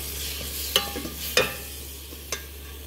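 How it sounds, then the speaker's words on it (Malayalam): A spoon stirs masala and tomato ketchup in a pan for butter Maggi, giving a few sharp scrapes and clinks spaced apart over a quiet background with no talking. "ഇനി ഇത് നമുക്കൊന്ന് ഇളക്കി കൊടുക്കാം."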